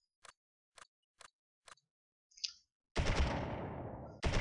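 A Russian PPS submachine gun in a World War II tactical game, Close Combat: The Longest Day, gives four sharp, evenly spaced cracks. A loud blast with a long fading tail follows, then another sharp report.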